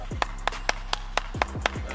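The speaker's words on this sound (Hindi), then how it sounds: "सबसे पहले भाई के लिए ताली बजा दो यार" A few people in an audience clapping, about eight distinct claps in a loose rhythm over two seconds, fairly close and sparse rather than full applause.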